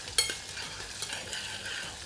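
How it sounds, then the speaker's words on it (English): Shrimp sautéing in a pan, a steady soft sizzle with occasional stirring scrapes and clinks, close and continuous. "And then saute shrimp."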